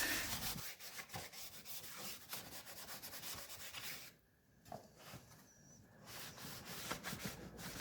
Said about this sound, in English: so I wipe it down almost as soon as I put it on